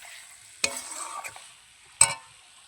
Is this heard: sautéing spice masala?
yes